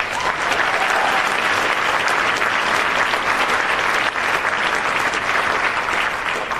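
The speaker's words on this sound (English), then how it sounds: "Give him a big round of applause." A large climate summit audience gives Rahm a big round of applause, dense, loud and sustained clapping that fills the whole stretch without a break.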